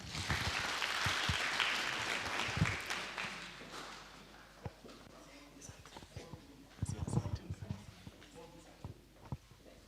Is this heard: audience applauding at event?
yes